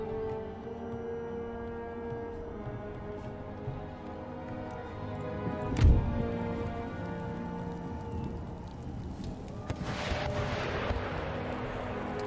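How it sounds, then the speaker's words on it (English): Cannon fire at close range during a battle in Empire: Total War, heard against a constant rumbling backdrop of battle noise, with one sharp boom near the middle and a second burst of blasts later on. "they're firing their cannons at close range"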